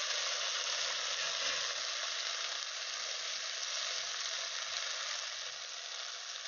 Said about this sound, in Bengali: কিছুক্ষণ ভাজার পরে দেখুন এইভাবে ভেজে নেবেন হালকা হালকা